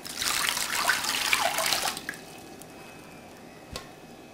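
Water is poured into an electric wok with sweet potato pieces set to high heat, a short close splashing pour lasting about two seconds, then quiet with a faint clink.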